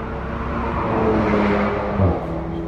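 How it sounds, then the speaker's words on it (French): Cars circulating on a race track hum as a steady, fairly distant engine drone with a brief swell as one passes closer, heard on an open-air test day. "Vous entendez les voitures qui passent sur la piste."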